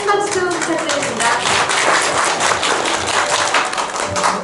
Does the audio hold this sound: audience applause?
yes